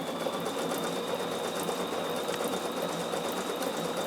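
A Bernina sewing machine stitches at a steady, fast pace, giving a close, continuous mechanical whir and rapid needle chatter with no talking.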